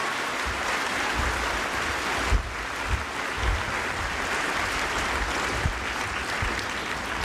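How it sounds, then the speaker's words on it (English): Audience applause at a veterans tribute event, a dense steady wash of clapping that holds for the whole stretch at even loudness with no talk over it. "Let's give them all a big round of applause."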